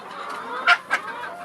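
Chickens cluck in a coop on a snowy day, with two sharp, close clucks standing out over a softer background of hens murmuring.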